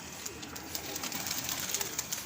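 Soft, continuous chatter of pigeons cooing and calling close by in an enclosure of confined birds, with faint scattered calls and rustling throughout.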